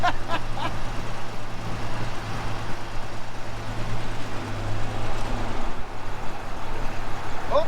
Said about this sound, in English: that's just the shackles underneath dragging